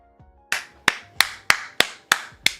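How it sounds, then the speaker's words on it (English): Sharp, close hand claps, seven evenly spaced in a slow, deliberate rhythm, each ringing briefly in a quiet room, with no one talking. "Round of applause."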